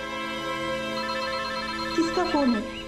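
A telephone rings indoors with a steady electronic trill that swells louder near the end, while a voice speaks faintly over it.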